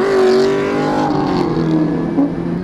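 A Mercedes-AMG 6.3 liter car engine rumbles close by in traffic with a loud, steady droning tone and slight shifts in pitch, with no one talking.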